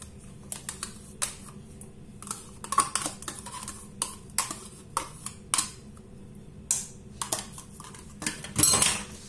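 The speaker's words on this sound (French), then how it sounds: "je vais continuer de fouetter un petit peu mon sucre avec mes œufs" Sugar and eggs being whisked in a bowl with yogurt for chocolate cupcakes: light, irregular clinks and taps of a whisk against the bowl, spaced a second or so apart, fairly quiet with no talking.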